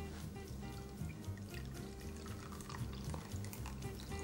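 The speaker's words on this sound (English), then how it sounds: "and just pour the juice" Lemon juice poured onto grated lemon zest in a bowl, a steady close liquid trickle and splash with faint kitchen clatter, no talking.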